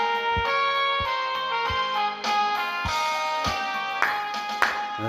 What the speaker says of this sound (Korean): 힘차게 박수 치면서 찬양하겠습니다.